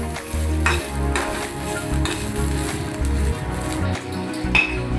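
Garlic and green chillies fry in a hot pan while a utensil stirs and clinks against the metal, a steady sizzle with repeated scraping and tapping, close up and continuous, with no talk.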